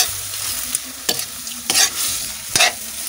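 Udon noodles with sardines stir-fry in a hot pan, a steady sizzle broken by several sharp scraping clanks of the spatula against the pan, up close and without talk.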